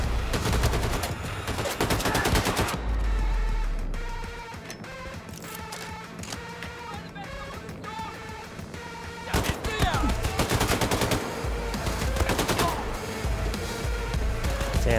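Gunfire in the shooter game Wolfenstein 2 comes as loud, rapid bursts of automatic shots, dense at the start and again toward the end, with a calmer stretch in between.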